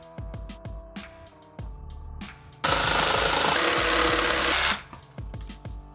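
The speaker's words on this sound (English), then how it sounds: "I'm just gonna cut it into a bit shorter pieces first." Power tool cutting a cheap flat piece of wood into shorter pieces: rapid clattering strokes, then a loud, sustained two-second cutting burst, then more rattling, close up with no talking.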